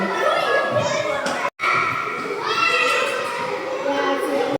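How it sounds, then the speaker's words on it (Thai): A crowd of excited children fills an evolution exhibit hall at the Bangkok Planetarium with loud, continuous overlapping chatter and shouts, echoing in the indoor space, with a brief cut in the middle. "เด็กๆมาเสียงดัง"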